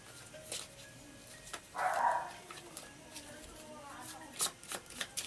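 A dog barks once, short and fairly faint, during a tarot reading, with cards shuffling and handled in the foreground and a person talking quietly nearby.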